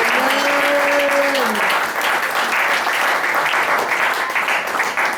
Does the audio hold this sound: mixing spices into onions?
no